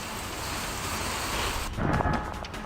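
Unseasonal thunderstorm with strong winds, heavy rain and hail in Maharashtra: a steady, dense roar of downpour that thickens and swells louder toward the end, with no voices.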